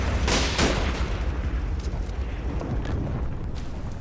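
Battlefield gunfire and explosive booms from a Combat Mission Normandy firefight, with a few loud early blasts giving way to a dense, continuous rumble of distant shots and detonations.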